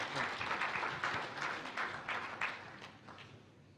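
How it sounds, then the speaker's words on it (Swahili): An audience applauds at a press freedom day ceremony attended by Tanzania's president, with dense, sustained clapping that slowly fades toward the end. "Makofi tafadhali."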